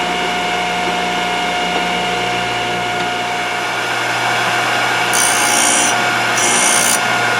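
A Thorvie AV-40 sharpening machine grinds a router bit to raise a burr, a loud steady motor whine with continuous abrasive rubbing, joined near the end by two brief brighter hissing bursts.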